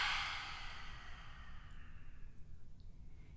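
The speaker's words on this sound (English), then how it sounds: "open the mouth wide on your exhale" A person exhales through a wide open mouth during a yoga session, producing a loud breathy sigh that fades within about a second into quiet room noise.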